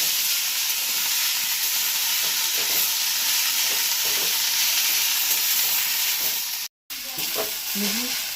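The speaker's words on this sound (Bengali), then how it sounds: "পেঁয়াজগুলো আমার লাল করে অনেকটা ভাজা হয়ে গেছে।" Onions for Bengali piyaj posto fry in a pan, giving a steady, close sizzling hiss with faint stirring underneath, broken only by a momentary gap near the end.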